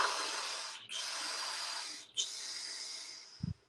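Forceful breathwork exhales: three sharp, airy breaths pushed out one after another, close and fairly loud.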